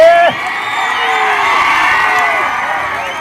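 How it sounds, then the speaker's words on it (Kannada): A crowd cheers and shouts loudly at a kabaddi final at Kankanawadi, the roar continuous and close, with an excited voice rising over it at the start. "ಜೋರಾದ ಚಪ್ಪಾಳೆ ಬಲ್ರಿ ನನ್ನ ಆಳ್ವಾಸ್ ತಂಡಕ್ಕೆ"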